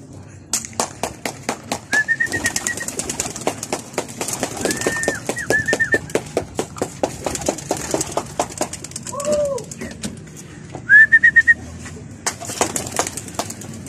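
Domestic pigeons at an old-style loft, with rapid wing claps and flapping bursts alongside several soft coos and a few whistled calls, with traffic faint in the background.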